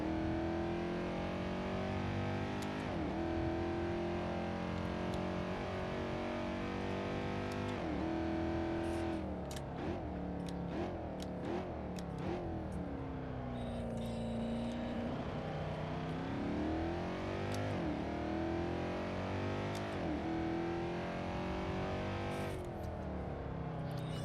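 Aston Martin Cygnet V8 city car's engine revving hard on the move, a loud continuous roar that rises and falls through gear changes with sweeping pitch, heard alone from inside.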